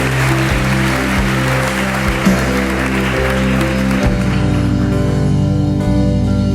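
A Lagoinha church congregation applauds loudly and continuously throughout, the clapping layered over worship music with a deep pulsing bass.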